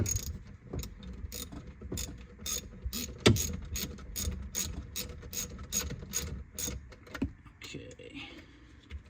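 A ratchet loosening the positive battery terminal on a Chevy Volt, with a rapid run of sharp mechanical clicks in short repeated bursts, close and fairly loud, and a few louder knocks mixed in.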